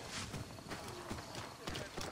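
Horse hooves clip-clopping in Assassin's Creed Origins, a rapid run of steady hoof beats at a gallop set under continuous game ambience and background noise.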